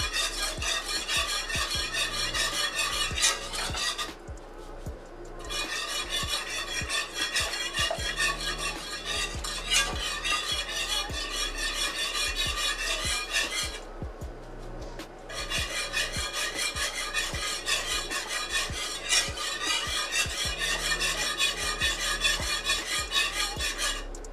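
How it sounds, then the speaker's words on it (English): Creamy Alfredo sauce is stirred in a pan as ingredients go in a little at a time, a close rhythmic scraping and rubbing of utensil against pan in long bursts separated by brief pauses. "You gotta put that in a little at a time and stir it in between."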